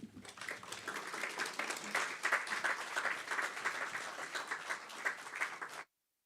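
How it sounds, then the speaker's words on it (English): Audience applause at a book launch for a legal memoir, a dense, even burst of many hands clapping for about six seconds before it cuts off sharply. "Round of applause for Justice Nelson."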